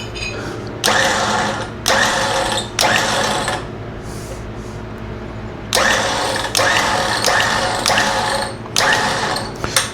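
An Open Road 4WD Panther Series 13,500 lb electric winch on a Jeep Wrangler 4xe runs in loud, whirring mechanical bursts. Each lasts about a second, with short gaps, then a longer pause before a series of closely spaced pulses. No talking.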